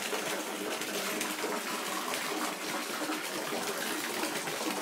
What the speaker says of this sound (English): Get it wet and wash your face.